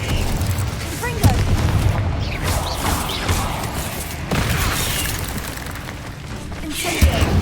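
The explosive Confringo spell erupts in Hogwarts Legacy, deep booming blasts rolling through a dense, continuous wash of combat sound, with stronger thumps near the start and end.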